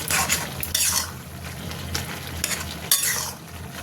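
Potato and tomato chorchori curry being stirred in a pan, several scraping strokes of a spoon against the metal over a soft simmering hiss, close and uneven in rhythm.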